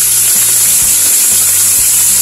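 Mutton pieces dropped into hot oil give a loud, continuous close sizzle, a bright hissing roar with low rumbling pulses underneath, and no voices.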